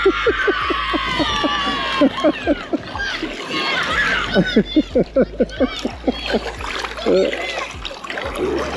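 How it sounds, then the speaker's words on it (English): A class of school kids passing by near a stretch of river water, clapping and cheering in a rapid, bright, rhythmic patter over flowing water and children's chatter, fairly close and lively throughout. "there's a class of school kids going past. They're all clapping and cheering"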